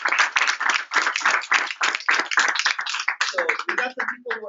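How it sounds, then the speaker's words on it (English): A group at a Saturday basic training session claps for a trainee in her second week: quick, rhythmic clapping close by, thinning out as a voice begins talking over the end. "Can we give her a round of applause?"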